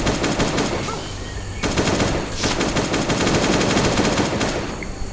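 AK rifle fire in the survival video game Last Day on Earth: Survival rattles in rapid sustained bursts, loud and dense, with a brief break before the automatic fire resumes.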